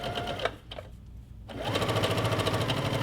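A sewing machine fitted with a quarter inch foot stitches fabric with 50 weight thread, a rapid close mechanical chatter that drops out briefly before running steadily and louder to the end.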